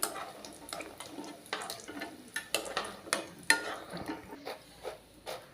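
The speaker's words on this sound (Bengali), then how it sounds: "এটাকে এবার আমি একটা ঝাঁঝরির সাহায্যে তুলে নিচ্ছি" A metal slotted spoon scoops fried snacks out of hot oil, giving irregular clinks and scrapes against the pan over a soft bubbling sizzle, with several sharp knocks spaced across the stretch and no talking.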